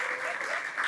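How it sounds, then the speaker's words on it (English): Audience applause at a live storytelling event, a dense burst of clapping heard alone and fairly close for under a second. "Let's give her another big round of applause."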